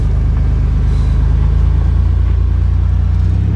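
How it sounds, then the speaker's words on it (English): A Chevy Astro race van runs with its engine on just before its first drive, a loud, steady low rumble with an even throbbing pulse heard from inside the cab, no voices. "Alright, so I'm in the van, it's running, and we're about to take it on its first drive"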